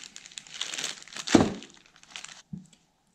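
Plastic bag crinkling as a metal gas cap coated in paint stripper is sealed inside, a close, crackly rustle building to a sharp crunch, then a brief final rustle before silence.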